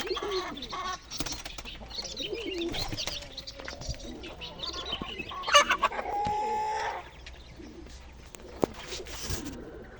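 Chickens cluck and birds coo and chirp in a busy outdoor yard, with a rooster-like call rising midway; faint voices murmur underneath.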